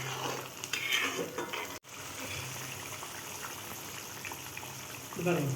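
A pan of channa masala gravy bubbles and sizzles steadily on the heat, with a brief stir or clatter of utensils partway through.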